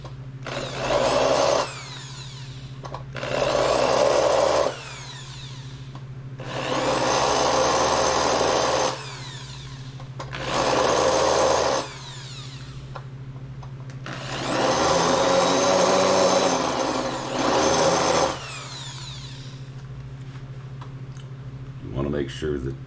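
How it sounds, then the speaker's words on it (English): Power drill with a countersink bit cutting into wood for 1/2 inch countersunk screws on a 1/64 scale hillclimb track, several loud whirring bursts of a few seconds each separated by pauses, close up with a steady low hum beneath. "So now we make the countersink in the top."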